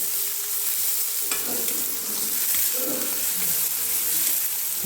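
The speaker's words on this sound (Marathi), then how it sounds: "आता हे चांगलं भाजलं की ह्याच्यामध्ये शेवाया भाजून घ्यायच्यात आपल्याला" Vermicelli being dry-roasted and stirred in a pan over a high flame while making an upma, a loud continuous sizzle with scraping stir strokes running beneath it throughout, close by, with no talking.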